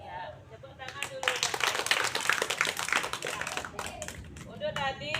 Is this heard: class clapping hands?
yes